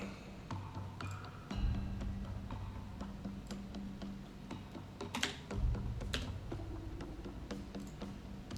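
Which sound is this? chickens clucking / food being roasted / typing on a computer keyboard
typing on a computer keyboard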